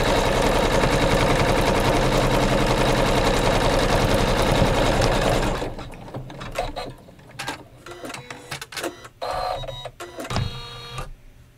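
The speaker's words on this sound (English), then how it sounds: "It's going to seam these together." A sewing machine seaming a red stripe on a flag quilt block runs in a dense, steady whirring stitch for about five seconds, then stops, leaving scattered handling clicks and rustles of fabric.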